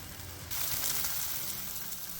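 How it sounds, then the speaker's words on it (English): Sliced rounds of Portuguese sausage frying in a pan over medium heat, a steady close sizzle that swells after a brief quieter start and holds evenly throughout, with no voices. "Slice your Portuguese sausage into rounds, and then fry them in the pan on a medium heat."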